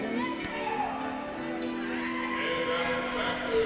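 A racking horse whinnies at a horse show, a loud neigh over steady crowd murmur and background chatter from the show grounds.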